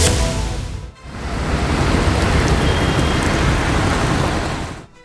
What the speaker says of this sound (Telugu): హైదరాబాద్లో పలు చోట్ల ఉరుములతో కూడిన జల్లులు పడుతున్నాయి